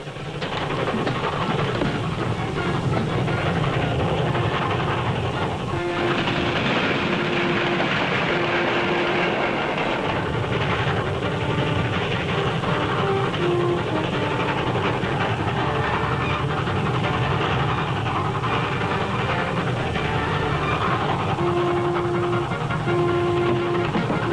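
A train rumbles steadily along for a long stretch, loud and close, with a constant roar and occasional brief tonal squeals.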